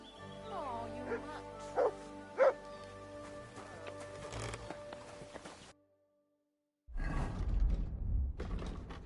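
A dog barks in Kingdom Come: Deliverance II, a medieval role-playing game: a couple of sharp, fairly close barks with some whimpering and creaking, then a short silence before a burst of louder, noisier sound.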